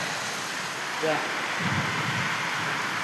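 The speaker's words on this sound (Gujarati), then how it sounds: "ઘણો બધો વરસાદ આવી રહ્યો" Heavy rain pours down in a dense, unbroken roaring hiss that fills the whole stretch, with a brief murmur of a voice faintly beneath it.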